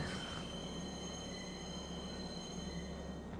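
A Star Citizen train rolls steadily with a constant low rumble and thin high whining tones, quiet and unbroken throughout.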